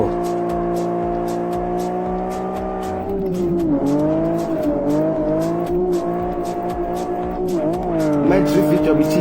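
Simulated car engine in the Live for Speed racing game holds a steady high rev, then wavers and climbs through a drift with squealing tires, loud and continuous with no talking.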